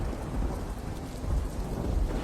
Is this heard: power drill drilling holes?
no